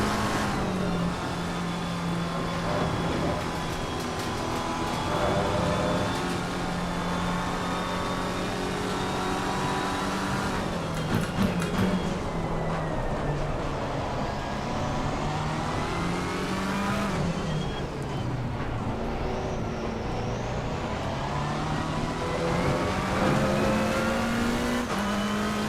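Race cars thunder around a wet Silverstone circuit, a steady loud engine drone shifting pitch as drivers accelerate and downshift, with rises and dips suggesting overtaking attempts among cars including a Ferrari and a McLaren.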